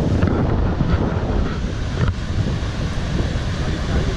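Steady wind buffets the microphone over rolling waves and surf at Candolim beach in Goa, a loud, continuous roar with no voices.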